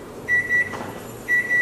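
A microwave timer beeps twice, with two pairs of high, steady electronic tones separated by a short pause.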